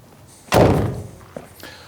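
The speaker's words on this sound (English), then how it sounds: "All Movanos get this single sliding side door." The sliding side door of a 2025 Vauxhall Movano van shuts with a single loud, close slam, then a couple of faint clicks and a short knock as it settles.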